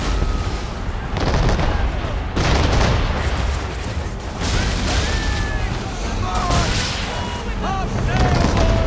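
Ship cannons boom in a naval battle aboard the Aquila in Assassin's Creed III, with several heavy blasts spread through a constant loud roar of wind, waves and battle noise, and brief shouts and whistling tones over the din.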